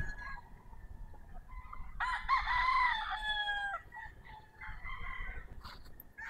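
A White Kelso gamecock rooster lets out one clear crow near the middle, close and fairly loud, set among softer clucks and outdoor background noise.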